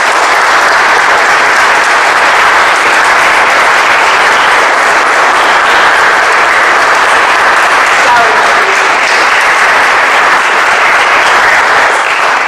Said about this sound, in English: we all have to give Wendy a big round of applause